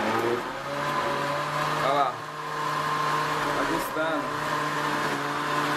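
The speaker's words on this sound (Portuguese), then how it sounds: "Agora eu vou deixar o nosso milkshake ali batendo, porque vai demorar muito, porque o liquidificador é muito fraco mesmo" A weak household blender straining to mix a Kit Kat milkshake, a steady droning motor whine with brief pitch dips as the load shifts, heard close up while a person speaks briefly.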